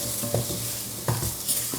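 A lamb stew base sizzles loudly and continuously in a one-pot casserole pan, with a couple of brief stirring scrapes cutting through the hiss.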